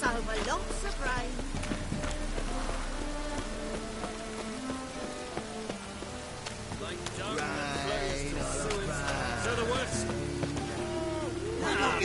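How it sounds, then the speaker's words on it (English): Rain pouring down in the fantasy game The Witcher 3, a constant patter under voices talking, with horse hooves clopping and a musical backdrop. "Lots of fuss over lots of rain."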